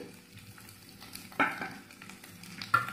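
Chopped onions frying in a spoonful of oil in a kadhai give a soft steady sizzle, with a couple of sharper scraping stirs partway through.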